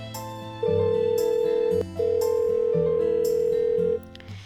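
A phone calls a contact in Doki Doki Salvation: a loud, steady electronic ringback tone holds for about a second, breaks briefly, then sounds again for two seconds over soft background music.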